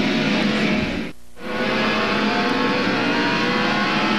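1999 NASCAR Winston Cup stock cars racing at Martinsville Speedway in Virginia during the Goody's Body Pain 500, a loud continuous roar of V8 engines battling for position, with a brief dip before the pack noise swells back.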